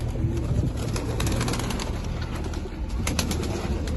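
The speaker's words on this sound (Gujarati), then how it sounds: "કબૂતર આપણા." Pigeons at a farm in Gariyadhar coo in soft, repeated low murmurs, close and continuous, with occasional chirps and light rustles around them.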